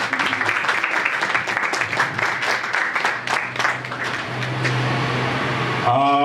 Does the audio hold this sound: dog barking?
no